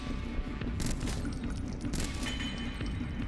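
Continuous loud gunfire with bullets pinging and ricocheting in Huntdown, a dense fusillade of cracks and metallic bounces layered over a heavy rumbling game mix.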